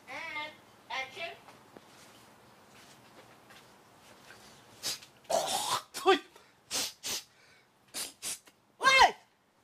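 In a Malay drama scene, a person clears the throat and hawks several times, then spits and blows out snot in a burst of short, harsh bursts, with some voice sounds mixed in; close and fairly loud.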